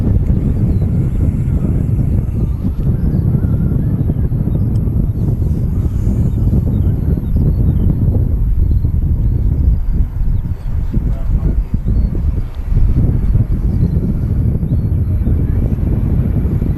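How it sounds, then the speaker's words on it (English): Steady, consistent wind at Manchester Airport, heard as a low, broadband rumble and buffeting against an outdoor microphone that runs unbroken throughout, with no clear speech. "Just a consistent wind."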